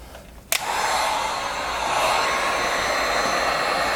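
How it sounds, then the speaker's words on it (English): A heat gun blows hot air onto window tint film on a car's driver's window. After a brief click at the start, a loud, steady, close rushing blow carries on without a break to the end. "you're gonna grab your heat gun"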